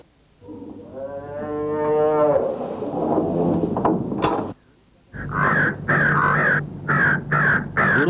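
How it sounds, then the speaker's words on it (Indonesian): A cow lets out a long, low moo, and after a short gap a crow caws repeatedly in loud, close, harsh bursts. "Burung gagak itu datang dan mematuk di bagian perut."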